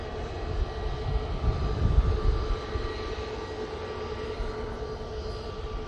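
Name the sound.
passenger jet departing Manchester Airport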